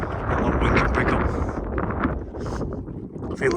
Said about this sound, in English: A lot of wind can pick up.